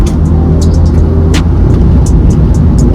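A 400-horsepower Subaru WRX with a turbo drives along a town road on a sunny day. The engine drones steadily and loudly from start to finish, and short higher hisses break through it now and then.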